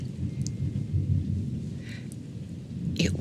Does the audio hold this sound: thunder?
yes